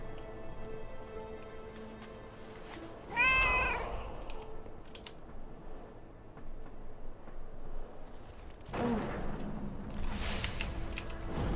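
A cat gives one clear rising-and-falling meow in a room, with a second fainter cry later amid light ticking and tapping noises.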